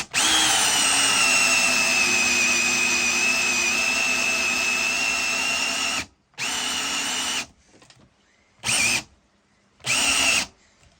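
Power drill driving a cutter through Hep2O plastic pipe clamped in a vise, a loud steady whine for about six seconds, then three shorter bursts separated by silence.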